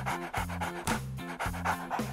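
A dog pants rapidly and close by in a steady rhythm of quick breaths, several in a row at moderate loudness with no talking over them.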